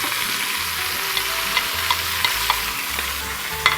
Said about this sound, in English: we're gonna go ahead, simply add our vegetables